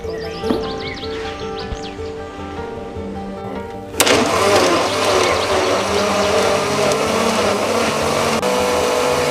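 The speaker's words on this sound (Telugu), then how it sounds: "ఇప్పుడు మూత పెట్టి ఒక నిమిషం పాటు బాగా మెత్తగా గ్రైండ్ చేసి" A blender starts abruptly and grinds watermelon pieces for juice, a loud, dense, steady whirring roar that runs on unbroken after a brief quieter lead-in.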